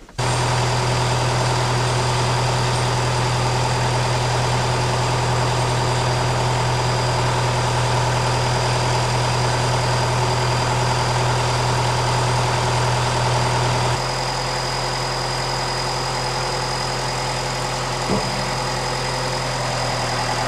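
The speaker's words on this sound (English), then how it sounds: "I'm gonna go move this tractor and put that shade up." Tractor engine idles steadily on a farm for about twenty seconds, a loud, even low drone with a constant hum that shifts to a slightly lower, quieter tone partway through, with no talking.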